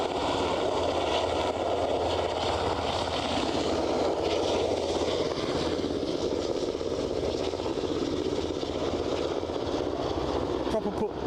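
A plane takes off at Aberdeen airport, heard as a loud, steady engine roar that holds constant throughout and eases slightly at the very end.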